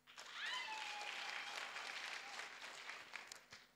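An audience claps at a book launch: sustained, fairly distant applause from a crowd, with a brief whistle-like tone early on, fading out after a few seconds.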